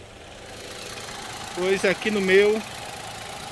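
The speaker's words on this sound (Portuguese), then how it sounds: "Carro ligado agora, barulho do motor." A Chevrolet Onix Plus engine runs at a steady, low idle hum, mostly underneath someone talking.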